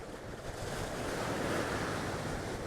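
Stormy sea waves crash and roll onto the shore at Selsey while strong wind buffets the microphone, a continuous roaring surge with no speech.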